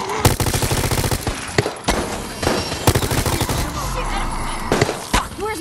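Bursts of rapid automatic gunfire in Resident Evil Resistance, loud and close, several rattling volleys broken by brief gaps and scattered single shots.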